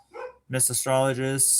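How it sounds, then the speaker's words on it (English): Dogs bark a few short times in the background of a room while a person talks over them. "Sorry about the dogs barking over there."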